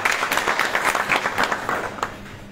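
An audience at a religious satsang discourse in a Pandharpur ashram bursts into dense, close applause that carries steadily before tapering off toward the end.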